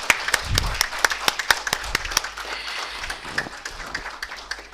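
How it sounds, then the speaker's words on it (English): An audience at a youth innovation finale event applauds dignitaries and winners with scattered, moderately loud claps at an irregular pace, and voices can be heard faintly. "a huge round of applause for our dignitaries and our winners"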